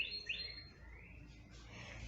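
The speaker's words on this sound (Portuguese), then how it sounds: "pássaros cantando." Birds chirp and sing in a few bright, quick phrases over a faint, quiet background, alone without any talk.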